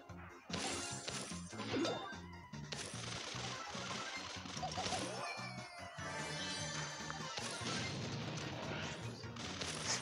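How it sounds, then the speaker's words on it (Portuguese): Loud, dense Brawl Stars blasts and crashes with booming impacts and rattling debris, continuous and busy throughout, without any talk. "Explosão."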